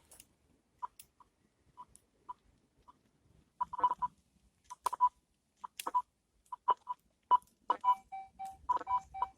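Short electronic beeps around 1 kHz from a Rutus Alter 71 metal detector, sparse at first, then faster and broken into a choppy, stuttering pattern, with a steady high tone near the end.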